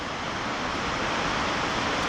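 Palouse Falls waterfall roaring: a steady, dense broadband rush of falling water, loud and unchanging for the whole stretch, with no voices over it.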